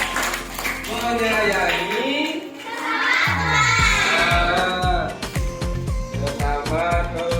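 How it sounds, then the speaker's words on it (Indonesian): Schoolchildren in a classroom clap together for a classmate, a dense patter of hands with some shouts, following a teacher's voice that leads into it. "Tepuk tangan untuk Mbak Sasa."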